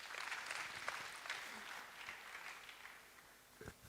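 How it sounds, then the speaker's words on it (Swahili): Audience applause at a university convocation meeting, sustained clapping from a gathered crowd heard at a distance, fading gradually toward the end with a couple of louder bumps. "Naomba tuongeze makofi"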